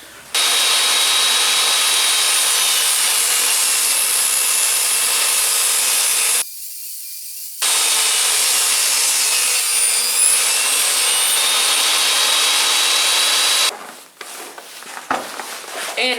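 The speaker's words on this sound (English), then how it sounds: "I'm gonna run it through my table saw just to like get off it so it's perfectly" A table saw cuts along the edge of a glued-up wood panel, running as a loud, steady whine for several seconds, pausing briefly, resuming for another long pass, then spinning down with faint clattering at the end.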